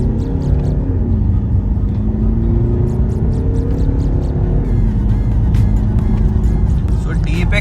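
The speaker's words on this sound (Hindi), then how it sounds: "if I press the full accelerator the car goes up to 95 kilometres" A Range Rover Evoque accelerates hard on an open road in normal drive, its engine rising in a loud, steady drone under continuous talk from inside the cabin.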